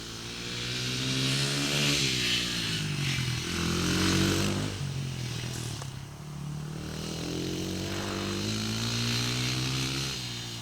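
Honda CRF 80 dirt bike engine ridden by a young child, a loud nearby buzzing two-stroke-style drone that revs up and down in repeated swells across the whole stretch, with no talking.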